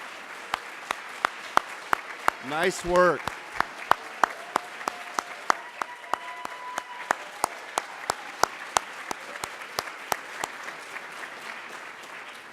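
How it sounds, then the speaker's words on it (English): Scattered audience clapping greets award nominees as they stand at a college staff awards ceremony, a few sharp individual claps repeating steadily above a soft background. A whistle sweeps briefly through it and a voice speaks. "let's practice our clapping again"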